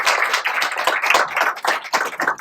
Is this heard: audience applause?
yes